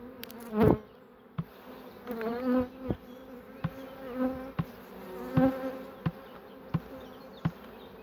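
Honeybees buzz around an open hive, a close droning hum with individual bees swooping past the ear, punctuated by sharp taps and knocks against the wooden hive.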